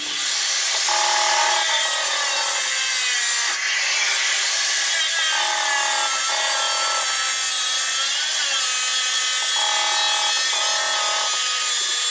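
A Metabo wall chaser grinds a socket chase through wall tiles, a loud continuous abrasive whine with a brief dip partway through and slight rises and falls in pitch as the blade cuts.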